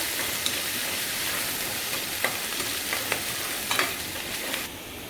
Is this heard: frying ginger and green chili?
yes